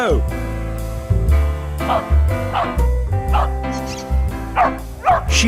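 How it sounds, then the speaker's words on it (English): A dog barks in short, repeated bursts with excited yips and whines in between, close by and loud, alongside a steady low background rumble. "She barks to show she's found the ball."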